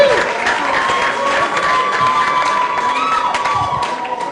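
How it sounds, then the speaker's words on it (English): A comedy club crowd claps and cheers loudly and continuously, with whoops and shouts rising over dense applause. "Keep clapping until he gets here"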